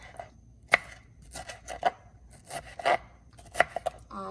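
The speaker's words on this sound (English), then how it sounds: "you slice them really, really small like that" A knife cuts tomatoes into small pieces on a board for saltfish fritters, making close, irregular taps and scrapes in uneven bursts, with no talking.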